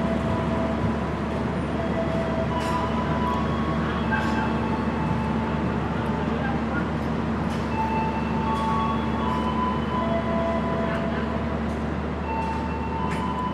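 The Progo economy train sits at Purwokerto station, giving off a steady, loud low rumble and hum with faint clanks and tones scattered throughout.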